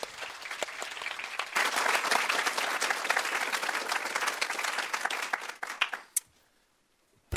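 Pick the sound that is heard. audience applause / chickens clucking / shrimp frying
audience applause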